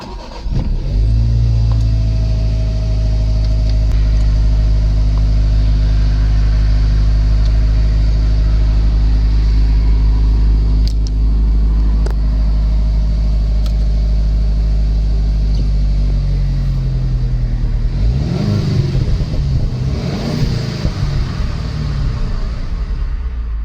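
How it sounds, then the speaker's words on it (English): Steady, loud engine drone of a Jaguar XJ (X351) saloon, a deep continuous rumble heard close up for the whole stretch, with a brief swell in pitch near the end as it revs, no voices. "in today's video I'll be driving this Jaguar XJ"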